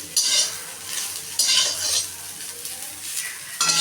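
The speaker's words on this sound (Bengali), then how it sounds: "কপিগুলো ভাজা হয়ে এসছে তো এই যে কপিগুলো কিন্তু ভাজা হয়ে গেছে" Cauliflower florets fry in oil in a pan, with a bright hiss that swells in bursts as a metal spoon stirs and scrapes against the pan, recorded close up with no talk.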